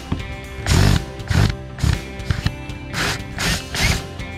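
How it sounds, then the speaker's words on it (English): A drill drives screws out of a MAXX Fan Deluxe roof vent. It sounds as several short, loud bursts of whirring and ratcheting, each lasting about half a second, separated by brief pauses. "So now I'm going to remove all the screws and then I'll pull the vent up"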